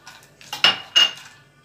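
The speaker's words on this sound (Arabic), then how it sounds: "اقعد اقلب فيه كده علشان ما يتحرقش ويتحمص في نفس الوقت" Metal spoon scraping and clinking in a small pan while stirring peanuts and almonds toasting in ghee, a few distinct close scrapes in a short sequence with no talking.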